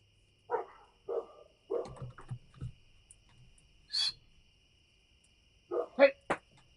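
Dogs outdoors at night bark and yelp in short scattered bursts, some distant and soft, others sharper and closer, with long quiet gaps between them against a low background hum.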